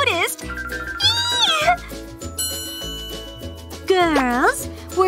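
Several high, rising-and-falling meows, likely from a voice imitating a cat, cut through a busy backdrop of music with chiming bell-like tones and continuous speech, loud and close.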